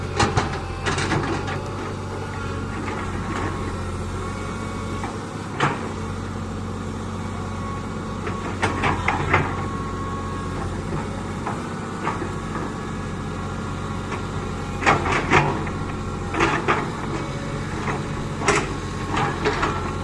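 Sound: Komatsu PC200 excavator operating

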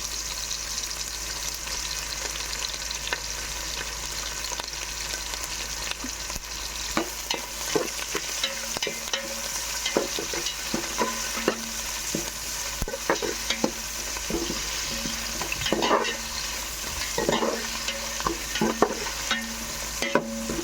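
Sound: frying curry leaves and spices in a pan

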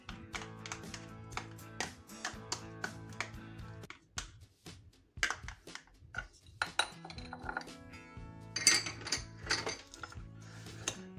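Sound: mixing butter with cocoa and biscuit in a bowl

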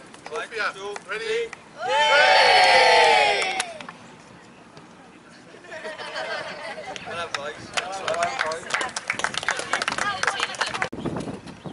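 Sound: football team and supporters cheering at trophy lift

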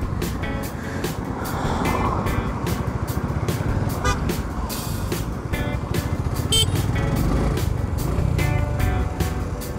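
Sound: vehicles passing by on a highway, horn toot

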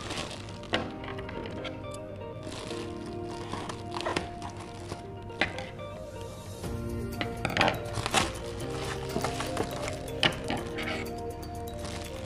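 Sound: stand mixer utensils being unpacked and clinking

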